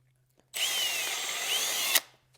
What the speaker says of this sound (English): It does a good job of giving me a repeatable countersink every single time